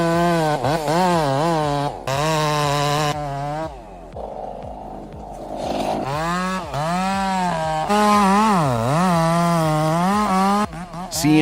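A chainsaw roars close by while cutting around a burning tree, its engine tone revving up and down in long, wavering swells with short drops to a lower idle between bursts.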